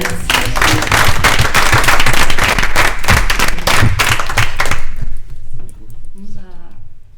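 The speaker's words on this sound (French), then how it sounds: "On l'applaudit." A studio audience at a French talk show applauds loudly with dense, sharp claps, briefly mixed with cheers, then dies away as voices start talking.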